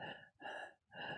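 A voice imitates panting, gasping breath: three ragged, breathy inhalations in quick succession, each separated by a brief pause, close and fairly quiet.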